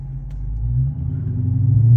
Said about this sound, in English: All I do is listen to my car.